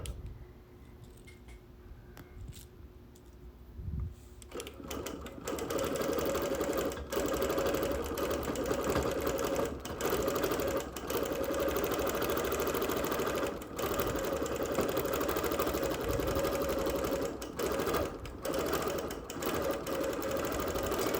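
A sewing machine stitching machine quilting on wool starts up after a few quiet seconds, then runs in a continuous fast mechanical whir with brief pauses and restarts, near and steady.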